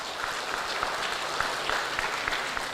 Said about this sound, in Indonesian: Tapi saya minta tepuk tangan untuk MPP karena ini luar biasa.